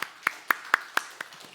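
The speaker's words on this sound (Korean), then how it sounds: "그동안의 수고에 감사하고 또 축복하는 마음으로 격려 박수 부탁드리겠습니다" A church congregation claps for a departing accompanist during a Sunday worship service, heard as about six faint, evenly spaced claps that thin out toward the end.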